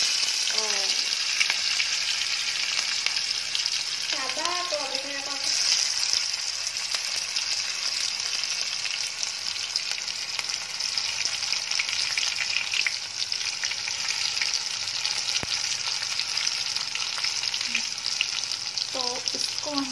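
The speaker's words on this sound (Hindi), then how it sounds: "तो इसको हम फ्राई कर लेंगे जब तक ये ब्राउन नहीं हो जाता, तब तक इसको हम फ्राई करेंगे।" Chopped onions fry in a pan for paneer curry, a loud continuous sizzle lasting throughout, with someone speaking now and then over it.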